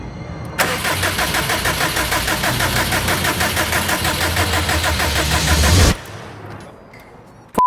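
A turbocharged car engine fires up for the first time, catching abruptly into a loud, steady, rough idle that runs for several seconds before cutting off sharply.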